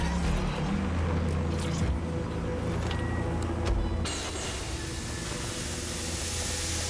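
A car in Watch Dogs Legion drives along with a steady engine rumble and road roar, broad hissing wind and tire noise over it, and occasional clunks and changes in the mix as it continues.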